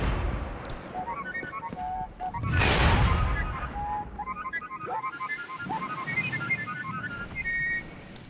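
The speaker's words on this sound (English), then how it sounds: "if you stand next to the one sweeper bot we actually have access to, he can whistle very well" The Sweeper Bot in Destiny 2 whistles a melodic tune of short chirpy notes in bursts, interrupted midway by a brief loud whooshing blast, then resuming its jaunty phrases close and clear.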